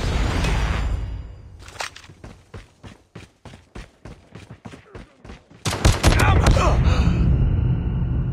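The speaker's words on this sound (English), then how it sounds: "Predator missile inbound." Predator missile strike in Call of Duty: Mobile multiplayer on the Shoothouse map, with a dense roaring blast at the start, a rapid series of about a dozen sharp reports, then a heavy loud explosion rumbling to the end.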